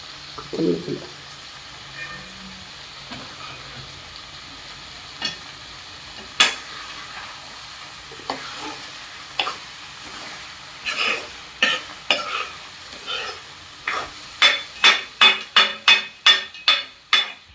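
Prawn thokku cooking in a pan, oil sizzling softly beneath a run of sharp scraping stirs from a spoon that grow louder and quicker toward the end, close up with no talking.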